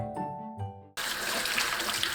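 Apples rinsed under a running kitchen tap, a steady broadband rush of water beginning abruptly after a second of quieter sink sounds and continuing loud and close to the end.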